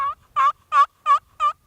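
A friction turkey call, dragged back and forth, gives a series of five crisp, evenly spaced hen yelps, loud and close with silence between notes.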